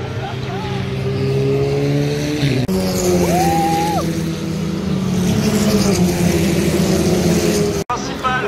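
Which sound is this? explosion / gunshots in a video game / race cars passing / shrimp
race cars passing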